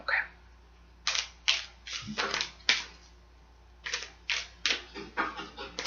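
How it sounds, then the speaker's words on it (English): A deck of playing cards shuffled by hand at close range, heard as repeated quick riffling bursts in two clusters separated by short pauses, with no speech. "I'm going to give this deck a shuffle"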